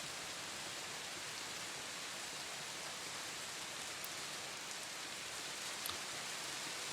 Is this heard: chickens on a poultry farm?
no